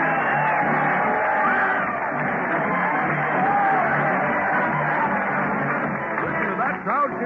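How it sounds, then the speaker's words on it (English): Crowd cheering at a Town Hall radio show parade, a dense roar of yells, whoops and shouting voices sustained throughout, heard through narrow old broadcast-quality sound. "Listen to that crowd cheer Fred Allen as he leads the parade to the old Town Hall."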